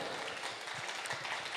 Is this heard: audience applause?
yes